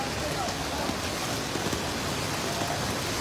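Heavy rain pours steadily during flooding along an airport road in Sylhet, a dense, even hiss of drops striking surfaces close by, with no distinct voices.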